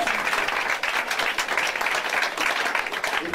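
A church congregation applauds to acclaim the Lord during a prophetic service, sustained dense clapping from many hands filling the room evenly for several seconds.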